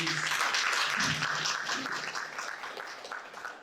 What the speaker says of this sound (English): Can you have a huge round of applause?